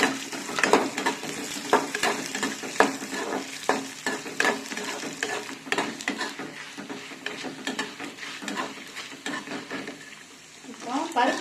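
Dal sautéed with ginger and garlic in a pan sizzles steadily while a spoon stirs with repeated scraping strokes, the frying easing slightly toward the end.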